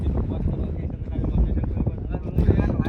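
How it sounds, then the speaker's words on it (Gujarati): Wind gusts buffet the microphone at an outdoor hilltop location, a continuous low roaring rumble that swells toward the end while people talk underneath. "થોડું દાબી બોલો, વાયરો આવે છે રંભળાય નહીં"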